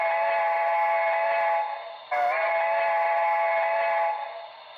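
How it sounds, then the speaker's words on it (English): A loud, sustained steam locomotive whistle with a rich chord of tones from a BLI 2-10-2 model train sound decoder, briefly breaking off midway before sounding again and tapering at the end. "here's the whistle, one of the selectable whistles."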